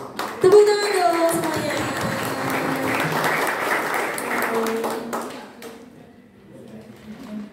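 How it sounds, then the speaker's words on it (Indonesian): At a school anniversary talk show, the audience applauds guest Kak Rio with full clapping for about five seconds, tonal ringing sounds mixed in, before it fades to a quieter tail. "Tepuk tangan dong"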